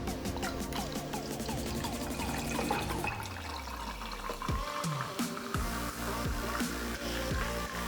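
Tonic water poured over shaped clear ice in a gin and tonic glass, a steady liquid stream and fizz with faint clinks of ice, fairly close and with no voices.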